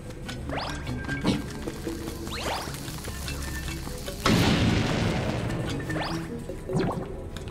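Bombs go off in The Legend of Zelda: Link's Awakening, a few short booms with one heavier crash partway through, close and loud over a steady game background.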